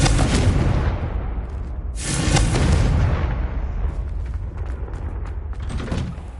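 A Confringo spell explosion in Hogwarts Legacy bursts loudly with a booming blast, rumbling debris and creaking that slowly fades, and a second surge comes about two seconds in.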